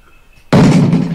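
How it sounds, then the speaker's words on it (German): In the game Ghost Hunters Corp, a character bumps its head against a door, giving one sudden loud thud with a short, hollow rumbling decay. "Er läuft mit dem Kopf gegen die Tür."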